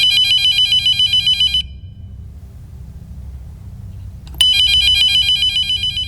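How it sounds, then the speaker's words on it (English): A landline telephone rings in a home living room, a steady electronic trill that cuts off after about a second and a half, leaves a low hum, then starts again loudly near the end. "we were interrupted once again by the landline ringing"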